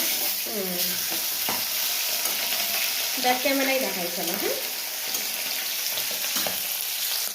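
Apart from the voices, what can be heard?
fish frying in a pan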